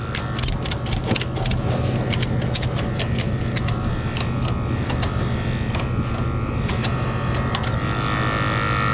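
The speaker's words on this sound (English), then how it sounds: "It's a J-hook ratchet, and we just go around the tire" A J-hook ratchet strap is cranked tight around a car tire on a tow truck's wheel lift, giving rapid metallic clicks in uneven bursts over a steady loud mechanical hum.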